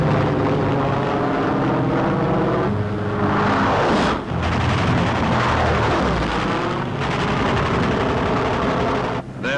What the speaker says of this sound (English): the Thunderbolts peel off to intercept